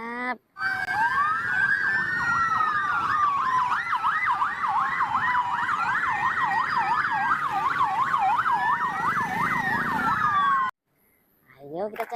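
A red toy fire engine's electronic siren wails loudly and steadily for about ten seconds, its rising and falling tone cycling rapidly, then cuts off abruptly, with a brief voice at the start and end.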